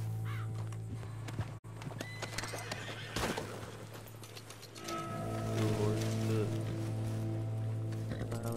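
A horse whinnies amid busy Red Dead Redemption 2 game audio, with a steady low hum, clicking mechanical sounds and a brief voice underneath.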